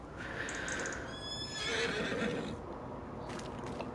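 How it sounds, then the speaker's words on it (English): Horses whinny and neigh in the Farming Simulator 25 farm game on a Louisiana farm, several shrill calls over a steady background rumble, with faint hoof clatter. "They are, of course, his horses"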